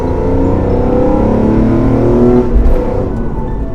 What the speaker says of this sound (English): Just listen to the induction noise.